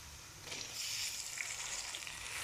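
Garlic frying in a pan for aloo chicken: a soft, continuous sizzle with light crackling that swells slightly after the first half second, close but fairly quiet, with no talking.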